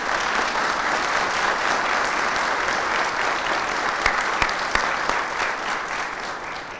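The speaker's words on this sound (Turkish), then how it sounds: "alkış istiyorum" Large audience applauding in a hall at a public-servants' union press event, sustained, dense clapping from many hands with a few sharper claps standing out, steady throughout and free of speech.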